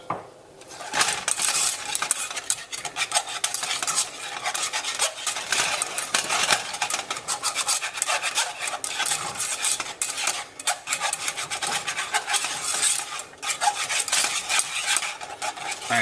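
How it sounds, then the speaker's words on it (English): A spoon scrapes and stirs continuously around a pot of melting chocolate chips on reduced heat, producing dense metallic rasping and clinking strokes up close, with no talking. "I'm going to reduce the heat because I don't want it to scorch. Just let chocolate chips melt."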